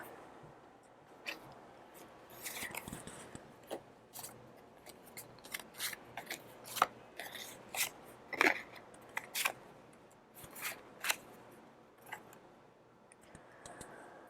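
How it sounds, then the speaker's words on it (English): Tarot cards being drawn from the bottom of a deck: a quiet run of crisp flicks, snaps and shuffling taps at irregular intervals, close up with no talk. "Let's pull out the cards from the bottom of the deck."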